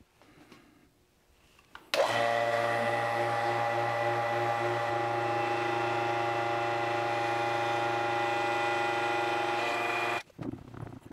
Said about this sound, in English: let's go ahead and pull a vacuum on this and see if we can get all these bubbles out